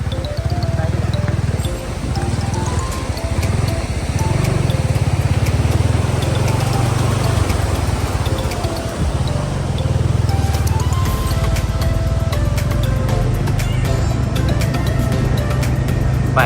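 A motorbike engine runs steadily and loud throughout while riding from the market toward Thauthali waterfall in Sindhupalchok, a continuous mid-pitched drone with slight dips.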